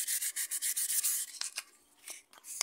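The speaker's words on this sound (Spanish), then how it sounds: "se le da su lijada antes de colocarla" The brake pad of an Admiral/Maytag washing machine is sanded by hand before fitting, a series of quick rhythmic scraping strokes that become slower and more irregular, close up with no talking.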